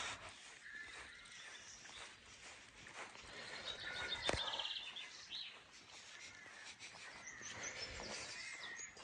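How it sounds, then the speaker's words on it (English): Birds chirp and sing in the early morning outdoors by a small football ground, faint and scattered across a soft ambient background, with one brief louder call near the middle. "so you can hear the birds"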